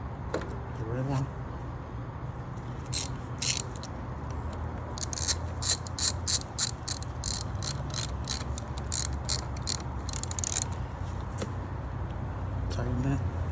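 On a 2021 Honda Accord Hybrid, a battery terminal cable is tightened with a ratchet, a quick run of sharp close clicking bursts over a low background rumble, followed by a few more ratchet strokes.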